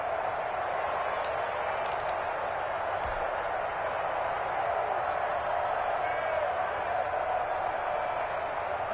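Steady, dense stadium crowd roar from a home-field football video game on PS4, a constant wash of noise with faint cheers and claps, and a commentator's voice talking over it throughout.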